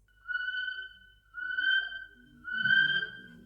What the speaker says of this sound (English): The male Kiwi, like Huwi, have a shrill, repetitive call that sounds like this.